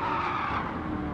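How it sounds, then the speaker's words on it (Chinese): A Gran Turismo Sport GR.3 race car on the Nürburgring Nordschleife squeals its tires in a brief, loud, continuous skid lasting about a second, with no voices. "前个轮胎发出尖锐的声音"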